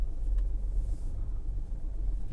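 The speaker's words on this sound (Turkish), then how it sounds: "Şu an hafif trafik var." Light city traffic in Luxembourg on a rainy July day: a steady, continuous low rumble of cars driving nearby, heard from inside a vehicle passing through the town centre, with no talking.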